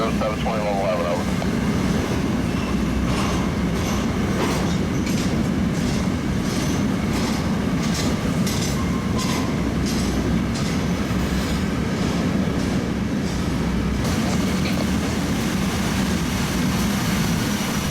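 A CSX freight train rolls past steadily, a continuous rumble with rhythmic clacking of wheels over rail joints throughout.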